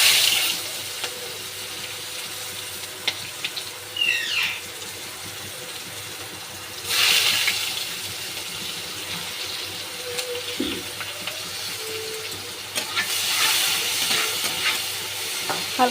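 Onions frying in a wok after eggs were fried and lifted out, a close, hissing sizzle with occasional utensil scrapes and swells of louder spitting, continuous with no voices.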